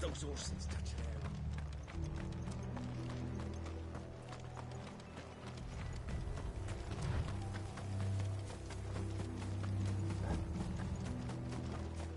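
Horses gallop with steady clip-clop hoofbeats in a Final Fantasy 16 game scene, layered with mechanical clatter and music, under voiced dialogue.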